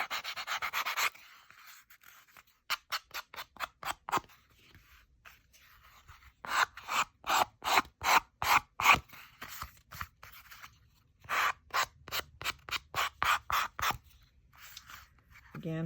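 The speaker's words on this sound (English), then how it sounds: "So we're going to get this kind of sanded off and rounded off nicely." Collage paper edges being sanded and rounded off: bursts of quick, rhythmic abrasive rubbing strokes, close and crisp, separated by short pauses.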